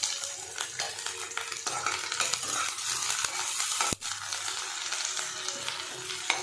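Onions stir and fry in a hot pan for an Assamese local chicken curry with pumpkin, giving a steady close sizzle with scraping stirs throughout and a brief dip near the four-second mark.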